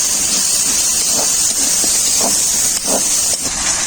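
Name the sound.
water added to frying spice paste, hissing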